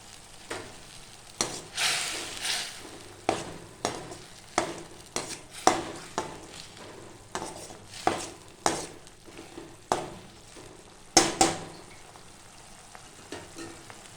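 Thick groundnut masala gravy bubbling in a pan, with steady spluttering pops that burst roughly every second over a low simmer, and no talking.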